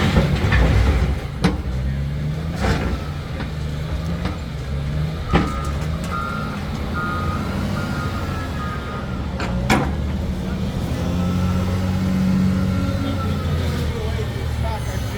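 A semi truck arrives at a building site delivering center block, its engine rumbling with intermittent reversing beeps amid construction noise and background talk.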